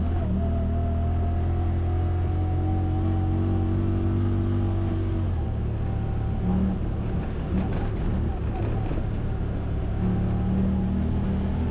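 A 2024 Honda Talon 1000X-4 side-by-side on a test ride, its engine droning loudly and continuously, the pitch dropping and settling as the transmission shifts, with wind and rattling mixed in.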